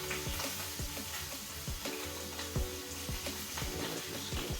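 Hot oil fries close up with a constant sizzle broken by frequent sharp pops and crackles spread unevenly through the whole stretch, with no talking.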